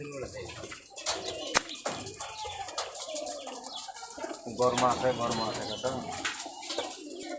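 Pigeons cooing at a pigeon keeper's place in Rajshahi, with soft repeated coos and some flapping and scuffling, while people talk nearby.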